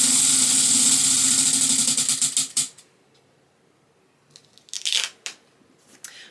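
A prize wheel spins with a rapid, steady clatter of its ticking pointer that slows and stops after about two and a half seconds, followed by near quiet and a few brief soft rustles.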